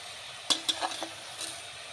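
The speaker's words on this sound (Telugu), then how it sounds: "ఆయిల్ వేడెక్కిందండి. ఆవాలు వేసుకుందాము. కొద్దిగా ఆవాలు చిట్టుపట్లాడినాక" Mustard seeds are tempered in heated oil in a pan for a bottle gourd chutney, giving a steady close sizzle with a few sharp metallic clinks and stirring scrapes.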